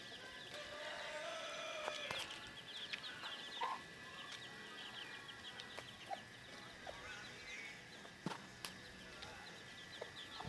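Nine newly hatched chicks peep in a nest on a farm, with a steady chorus of faint, high chirps and occasional louder single peeps at a moderate distance.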